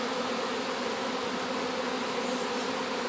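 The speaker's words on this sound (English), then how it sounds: "the bees are all just on front of the hive." Dense, steady buzzing of a large mass of honey bees swarming in front of a two-part beehive, a continuous loud drone with no voices, filling the whole moment without a break.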